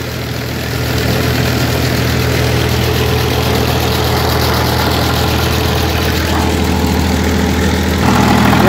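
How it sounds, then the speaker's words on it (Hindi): Diesel tractor engine running in a field to pump irrigation water, a loud steady idling rumble that continues throughout with no speech. "यहाँ डीजल सीधे डाल दिया ट्रैक्टर में और अपना काम स्टार्ट हो गया।"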